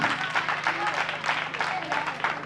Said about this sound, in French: On applaudit pour l'enfant Sila Roldi.